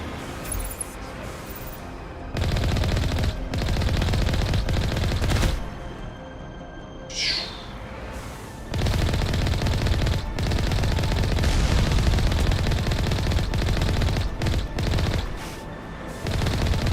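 Sniper weapon fire in the video game Mass Effect: repeated sharp gunshot bursts in clusters with short gaps, loud and close, carried over a continuous game soundtrack.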